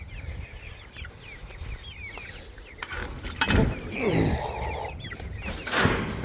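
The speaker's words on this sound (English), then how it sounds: "Come on, chickens. Everybody into the box." Backyard homestead chickens, including Sussex and Blythe hens, cluck and squawk in scattered bursts while being caught and put into a box, with rustling and handling noises close by.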